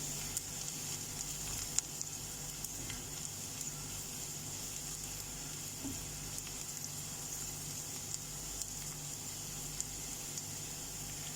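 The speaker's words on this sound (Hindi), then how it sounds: "अब इन मसालों के साथ प्याज को सौते करना है, भुनना है," Onion sautés with spices in a pan for a radish dish, giving a quiet, steady sizzle with occasional small pops and crackles, close by and without talking.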